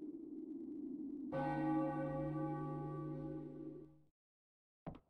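A single bell tolls in Final Fantasy IX, struck once with a loud, rich peal whose overtones ring on for a few seconds over a low ambient hum, then fade before a short click at the end.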